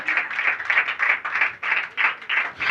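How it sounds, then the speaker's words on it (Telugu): A church congregation claps in a steady, rhythmic beat, about four claps per second, loud and close, many hands together with no talk over it. "చప్పట్లు కొట్ట"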